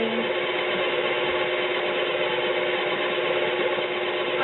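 A KitchenAid stand mixer with a flat beater creams butter and sugar for a lemon pound cake, making a constant, even motor whir with no pauses and no talk.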